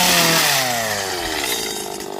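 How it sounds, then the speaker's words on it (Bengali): A motorized cutting machine slices oil palm fruit from a small palm tree on a Malaysian plantation, a loud, continuous whining drone with a slowly falling pitch, alone with no talk. "দেখেন কিরম করে ফল কাটে ছোটো গাছে মেশিন দিয়ে"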